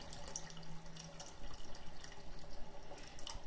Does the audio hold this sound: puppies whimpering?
no